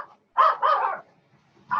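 A puppy named Critter gives a few sharp, close barks and yips in short bursts separated by brief pauses.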